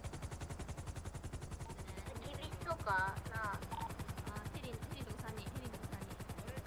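Rapid, evenly spaced automatic gunfire at a helicopter rattles on continuously in the video game GTA, loud and mechanical throughout, while players talk briefly over it midway.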